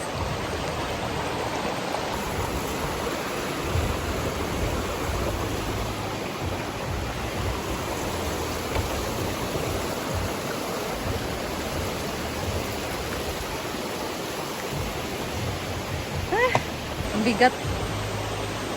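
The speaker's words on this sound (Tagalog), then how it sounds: "dadaan na tayo dito sa may mga bato sa sapa" Stream water flows steadily over stones in a farm creek, a broad, even rushing wash close by, with a few faint clicks and knocks of footsteps on the rocks near the end.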